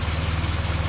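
A 1970 Austin Morris 1098cc engine, the unit from a Morris Minor, idles steadily with a low, even pulsing throb that runs throughout, close and continuous with no voices.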